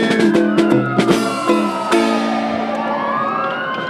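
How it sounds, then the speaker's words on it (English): Fire truck sirens wail loudly with rising and falling tones, joined by short horn blasts among an outdoor crowd at a Fourth of July parade in Ketchikan. "It sounds like we got sirens."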